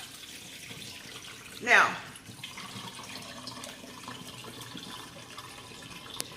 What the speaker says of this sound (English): Just draining off the water, see?